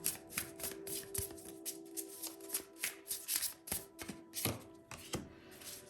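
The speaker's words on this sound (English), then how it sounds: "we're going to be pulling from Essential Oil Oracle cards as well as the Animal Tarot" Oracle and tarot cards, an essential-oil deck and an animal tarot deck, being shuffled by hand in quick repeated riffling bursts, close and fairly quiet, with soft taps between the shuffles and no talking.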